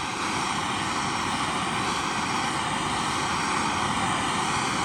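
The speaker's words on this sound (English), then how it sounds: "I'm not going to worry about blowing through it with a MAP gas torch, and especially on the weld." A MAP gas torch heats the weld area of a dented two-stroke exhaust pipe until it glows cherry red, giving a steady, loud, close roaring hiss that holds without a break.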